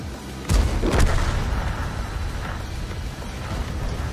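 A tank cannon in World of Tanks fires with a loud deep boom, followed by a second blast a half-second later and a lingering low rumble that fades out.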